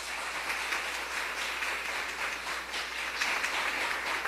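A church congregation applauds together in a sustained, even wash of clapping that stays steady and moderately loud for several seconds, with no voices on top.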